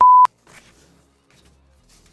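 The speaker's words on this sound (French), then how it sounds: "Et un bip." A single short, loud electronic beep at a steady pitch, followed by faint background noise and a low hum.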